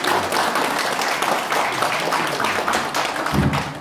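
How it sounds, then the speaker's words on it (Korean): An audience at a Korean Buddhist lecture event gives warm, steady applause for an invited speaker, with dense overlapping claps that fill the room evenly throughout and no speech over them. "뜨거운 박수 부탁드리겠습니다."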